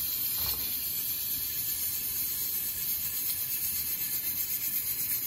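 Onion sizzling in a pan, a steady, even crackling hiss that carries on without a break, close and moderately quiet, with no voices.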